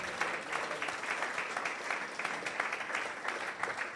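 A church congregation claps together in steady, dense applause during a Spanish-language sermon, loud and continuous throughout with no talk over it.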